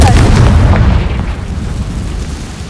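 A loud, close Confringo spell explosion in Hogwarts Legacy erupts at once as a deep boom and then rumbles away over a couple of seconds.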